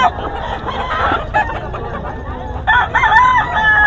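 Roosters and stags crow repeatedly at a gamecock market in Bocaue, with two long crows standing out over clucking and a busy background of other fowl.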